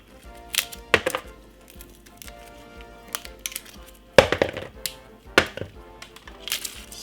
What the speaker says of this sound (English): Break off your garlic clove like this.